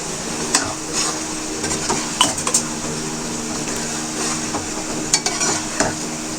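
A utensil stirs cream into white chicken karahi in a pan, with repeated scraping and sharp metal clinks against the pan over a soft sizzle, close and fairly loud.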